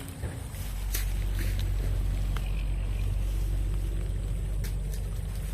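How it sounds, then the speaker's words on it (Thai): Water runs through a ditch in a coconut orchard with a steady, full, close rushing roar like a small waterfall, with faint wind buffeting the microphone. "ก็เป็นคูน้ำเสียงมันเสียงน้ำตกเลย"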